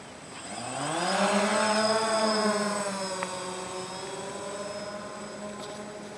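A DJI Phantom quadcopter drone lifts off a ground landing pad outdoors, its whining rotor buzz rising in pitch, then holding as a steady, close, droning hum with no talking.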